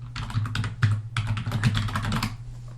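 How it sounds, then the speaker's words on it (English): Quick, steady typing on a computer keyboard as a keyword is entered into research software. Close, continuous key clicks with a few slightly louder strikes, with no voices over it. "you type in your keyword"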